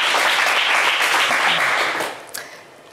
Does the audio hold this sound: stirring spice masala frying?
no